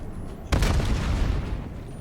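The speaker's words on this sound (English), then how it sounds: "Frag thrown." A frag grenade goes off in Call of Duty: Black Ops 7, one sharp close blast that follows a steady background of game ambience and leaves a sustained rumbling tail.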